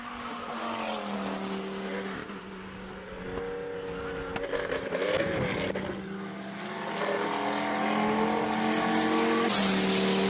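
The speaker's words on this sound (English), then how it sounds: "Driving the 911 Martini Porsche." A Porsche 911 in Martini livery at a classic car event in Cape Town, its race engine droning and shifting pitch as it revs and accelerates past, growing louder toward the end.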